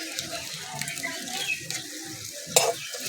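Maggi noodles with spice mix stirred and fried in a pan, a low sizzle under repeated scraping strokes and one sharper clatter near the end, close and without speech.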